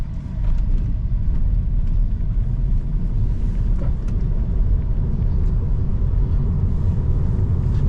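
Tesla Model 3 driving itself in Full Self-Driving mode on a rural desert road, with a steady, loud low road rumble and tyre noise continuous throughout.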